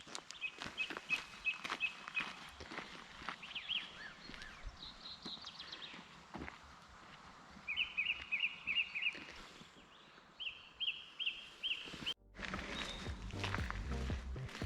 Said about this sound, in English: you can just hear the birds chirping and that in the background